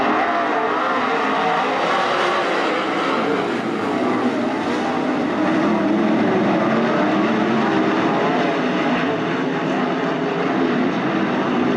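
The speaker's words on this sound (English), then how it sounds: "What a move there for the 17 machine of Dylan Norris into the 2nd spot." 410 sprint cars race at Attica Raceway Park during a heat, engines roaring loud and continuous for the whole stretch, a dense unbroken wall of high-revving motor noise with no voices.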